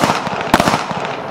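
A single sharp shot from an American-made GI 1911 pistol at a practical shooting match stage, a loud close crack with brief echo and no talk.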